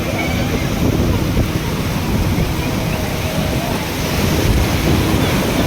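Continuous broad roar of surf and waves on the Konkan coast mixed with wind buffeting the microphone, faint voices buried underneath.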